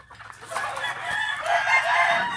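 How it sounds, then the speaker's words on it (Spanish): A young rooster gives a rough, strained crow up close, loud and drawn out, with a few clucky notes around it. "aquí les voy a mostrar un pollo"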